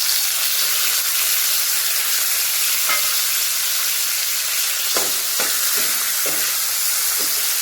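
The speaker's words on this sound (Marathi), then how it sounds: "जिरं घातलेलं आहे हा आपण कांदा घालत आहोत आपण टॅमॅटो घालत आहोत" Onion and tomato fry in a pan with cumin for matki amti, giving a loud, constant sizzle with a few spoon scrapes and stirring clatters toward the end.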